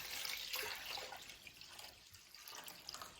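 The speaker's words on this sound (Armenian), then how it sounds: "Սառը ջուր ենք լցնում" Cold water splashes into a cooking pot for a mushroom and wheat pilaf in a quiet, continuous hiss and trickle, with no voices over it.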